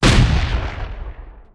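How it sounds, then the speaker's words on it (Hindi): A single sharp explosion blast as a sound effect: a loud, sudden boom with a rumbling tail that decays over about a second and a half. "छोटा, प्रिसाइज और सर्जिकल ब्लास्ट।"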